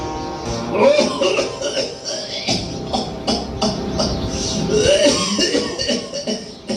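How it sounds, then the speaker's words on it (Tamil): Repeated coughing sounds, voiced for a snake puppet in a Christmas puppet show, amid a busy, noisy scene, with some throat clearing mixed in; fairly loud and continuous. "யாரு இருமறது?"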